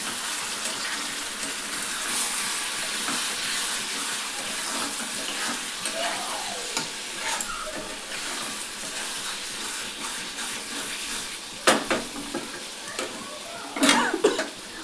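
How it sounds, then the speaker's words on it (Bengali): Chicken curry simmers in a pan with a soft steady sizzle, while a spoon stirs and scrapes now and then, growing louder in a few clattering strokes near the end. "সামান্য এখন একটু নাড়াচাড়া করবো।"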